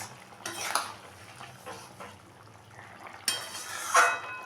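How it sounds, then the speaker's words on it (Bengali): A spoon clinks and scrapes against a pan while potato, pointed gourd and prawn curry is mixed with garam masala powder, with scattered metallic knocks over a faint simmer. "এখন আমি দিয়ে দিলাম খানিকটা গরম মশলার গুঁড়ো, দিয়ে ভালো করে মিশিয়ে নেব"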